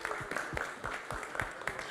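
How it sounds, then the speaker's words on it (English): Startup showcase audience gives the event host a round of applause, a modest, uneven scatter of hand claps with distinct individual strikes, moderately soft in a hall. "Let's give a great round of applause for her once more."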